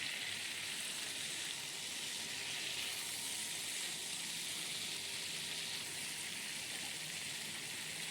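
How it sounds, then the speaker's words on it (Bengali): Pointed gourd (potol) fries in oil with salt, giving a continuous even sizzle and crackle throughout, steady and fairly close, with no talk. "আমি শুধু নুন দিয়ে পটলটা ভাজবো"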